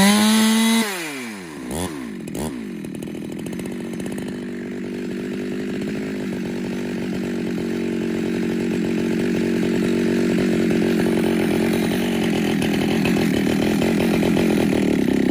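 Clone Husqvarna 372 X-torq-carb, 365 XXL big bore 52mm chainsaw with a 24-inch bar starting up with a brief rev, then settling into a steady, loud, close low idle that continues throughout.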